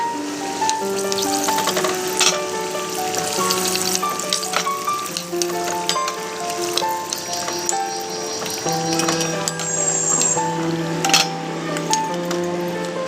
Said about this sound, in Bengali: তো চলো আলুগুলো ভাজা হোক